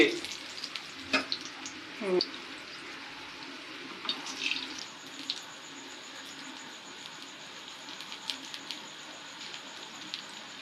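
Golden potato coins frying in hot oil, a steady close sizzle with a few sharp clinks of a utensil lifting pieces out, the frying hiss running continuously throughout.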